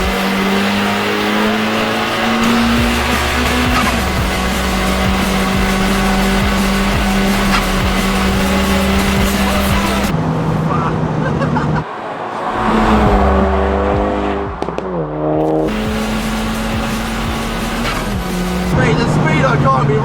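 Turbocharged VW Caddy van with an Audi S3 engine swap accelerating hard, engine roaring up through the revs with gear changes and exhaust crackle, loud and close, with people talking over it.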